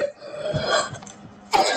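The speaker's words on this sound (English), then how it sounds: "Sorry, I've really been bad cough, so I might cough a lot." Someone with a bad cough coughs several times indoors, harsh bursts close to the mic, a cluster early on and another sharp cough near the end.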